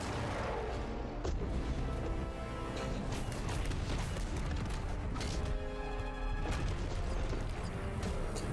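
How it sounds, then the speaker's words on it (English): Firework launcher firing in a Minecraft animation, a run of loud booming blasts and crashing impacts with sharp transients spread across several seconds, dense and noisy throughout. "Firework launcher."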